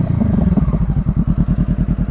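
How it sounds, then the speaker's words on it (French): A motorcycle fitted with a new exhaust idles close by with a loud, rapid, throbbing pulse, its engine note swelling briefly with light throttle blips, and no voices. "Donc voilà, sur le ralenti du coup. Quelques coups d'accélérateur."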